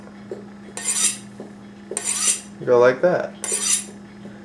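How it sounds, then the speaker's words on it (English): A kitchen knife is stroked against a knife sharpener, giving several short metallic scraping swipes at a rhythmic pace over a steady low hum, with a brief spoken phrase among them. "if you actually have a real knife sharpener, these work really, really well"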